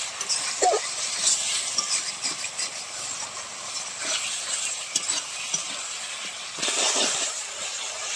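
Tomato and spice masala sautés in a pan with a constant close sizzle and hiss, punctuated by a series of soft scraping stirs, with no one talking.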